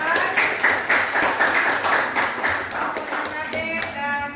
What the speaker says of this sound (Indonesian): Kita kasih aplaus buat yang sudah lakukan.